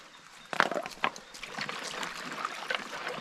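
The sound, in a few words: water sloshing while gold panning in a creek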